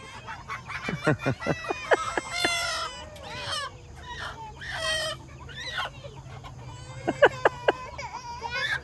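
Chickens clucking and squawking close by, a flurry of sharp calls in bursts, with a rooster-like crow drawn out partway through.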